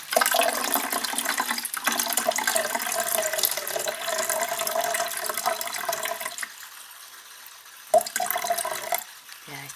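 Tap water running for an aquarium water test, a steady loud rushing stream that drops away near the end, then briefly returns with a splash.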